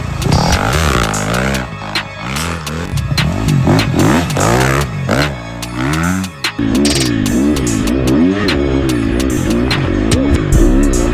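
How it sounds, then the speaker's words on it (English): A KTM 250 SXF dirt bike engine revs hard and repeatedly, its pitch climbing and falling in rapid throttle blips, loud and close throughout with no talk. "G Money the Win got that exclusive 250 KTM"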